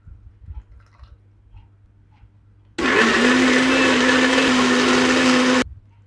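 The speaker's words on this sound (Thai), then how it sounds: "ป้าก็จะปั่นด้วยน้ำเย็นนะคะที่เป็นน้ำต้มสุกนะคะแล้วก็นำไปแช่เย็นค่ะ แล้วก็เอามาปั่นค่ะ" Krachai (fingerroot) whirs in a blender with cold boiled water: a loud, steady motor roar that starts abruptly after a quiet stretch, runs about three seconds and cuts off sharply.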